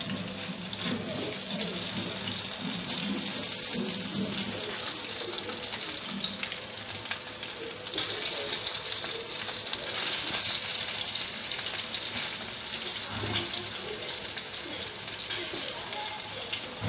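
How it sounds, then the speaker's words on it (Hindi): Thick paneer slices shallow frying in a pan give a steady, dense sizzle and hiss that runs unbroken throughout, with faint kitchen clatter and a brief murmur of voice underneath. "मैंने 5 मिनट पनीर को अलट पलट करके अच्छा से सेलो फ्राई कर लिया है"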